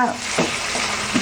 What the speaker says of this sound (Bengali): পেঁয়াজের সাথে সাথে চিকেনটাও হালকা হালকা ভাজা হবে।